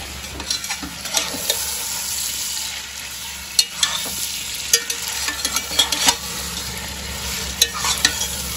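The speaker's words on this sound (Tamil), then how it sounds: "சிக்கனை போட்டு நல்லா கலரிட்டு இதை 5 மினிட்ஸ் க்ளோஸ் பண்ணி குக் பண்ணிக்கலாம்" Chicken for Bangalore donne biryani sizzles loudly in a pot as a spoon stirs it, with a constant close fry and repeated knocks and scrapes against the pot, no voices present.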